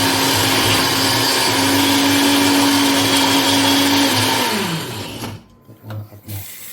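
A loud kitchen blender whirs steadily while blending ingredients for a homemade fisherman soup, its motor pitch shifting slightly before it winds down and stops, followed by a few faint clunks.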